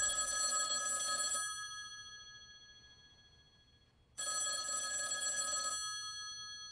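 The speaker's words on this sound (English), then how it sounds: "that phone over there is gonna ring" A telephone rings in a tense crime thriller scene: two long electronic ring bursts separated by a pause of a couple of seconds, loud and clear over a low background hum.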